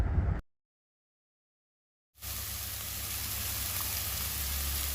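Mutton masala sautéing with cumin, fennel and garam masala powder in a pan: a short burst of sizzle, a moment of silence, then a steady, even hiss of frying that carries on without talk.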